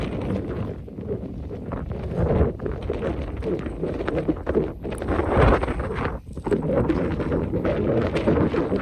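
Strong wind at Devils Tower blasts a nearby microphone in a loud, continuous, gusting rumble throughout, rising and dipping with each gust.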